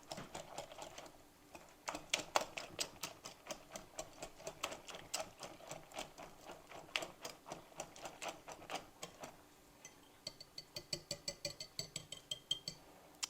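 A whisk beats wet ingredients for keto pumpkin pecan muffins in a bowl, making a quick, steady run of light rhythmic clicks and taps close by.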